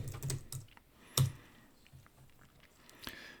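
Quiet, close clicks of keys being pressed on a computer keyboard, a few scattered taps with one sharper keystroke in the middle, alone without talk.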